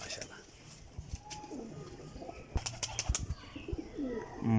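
Champion high-flying parwazi pigeons with black tails coo in soft, repeated throaty calls, with a brief wing flutter, while someone talks quietly nearby.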